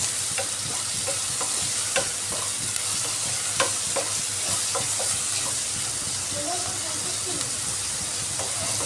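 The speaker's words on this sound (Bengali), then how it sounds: "পেঁয়াজটাকে এখন ভালো করে কষিয়ে নিচ্ছি আমি।" Onions frying and being stirred in a pan for egg biryani, with a steady broadband sizzle and scattered spoon scrapes and clinks throughout, fairly close and continuous.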